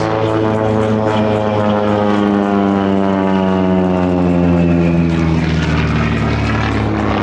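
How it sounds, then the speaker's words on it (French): A TB30 Epsilon propeller airplane drones loudly past at the Biscarrosse air show, its engine pitch sliding downward as it moves away, steady and continuous throughout. "L'avion Moustique qui vient de passer"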